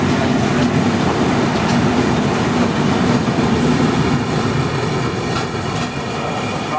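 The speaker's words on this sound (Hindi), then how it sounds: "कालूडे के अनशेड्यूल्ड हॉल्ट के बाद हमारी ट्रेन निकली है।" The Hazur Sahib Nanded Santragachi SF Express rolls along after an unscheduled halt, a loud, continuous rumble of wheels and carriages with a faint rhythmic clatter over the rails.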